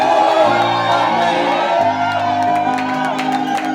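A church congregation at an apostolic tabernacle service cheers, whoops and shouts for joy at full volume, a dense crowd roar with sustained organ-like chords underneath throughout.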